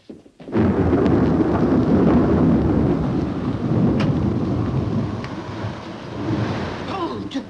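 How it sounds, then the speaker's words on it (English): Thunder from an approaching storm rolls in as a loud, continuous rumble mixed with rain-like hiss, steady throughout with a faint voice underneath. "A big storm coming."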